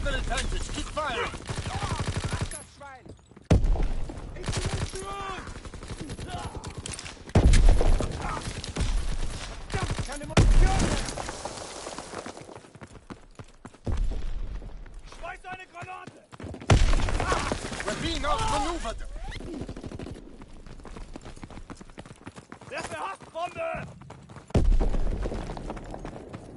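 Heavy gunfire rattles through a Call of Duty WWII battle, bursts of automatic fire and shots rising and falling in loud waves, with radio-style voices speaking between the volleys.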